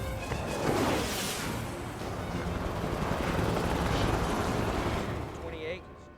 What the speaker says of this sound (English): enemy choppers moving in to pick up the downed pilot